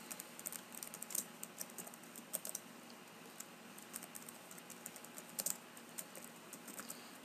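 Someone types on a computer keyboard, producing a quiet, steady patter of individual keystrokes at an even pace with occasional louder taps, and no talking.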